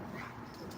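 Dogs barking and yipping playfully indoors, a brief, muffled burst set low behind room noise.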